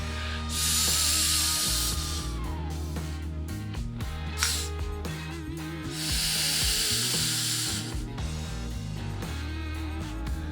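Short bursts of compressed air hiss into the float valve of an S&S Super E Shorty carburetor, two loud blasts separated by clanks and handling noises of tools and parts, no talk.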